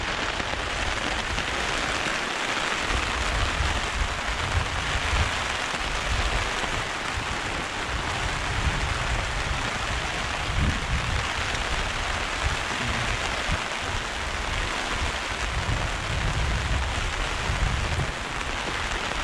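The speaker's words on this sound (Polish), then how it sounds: "Pierwszy deszcz" First rain of the day falling steadily on surfaces outdoors, a dense even hiss of drops that fills the whole stretch with no voices over it.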